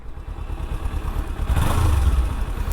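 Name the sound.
Kawasaki Ninja 300 motorcycle engine running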